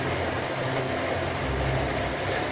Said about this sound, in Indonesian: mendengarkan suara hujan deras yang bergemuruh di atap mobil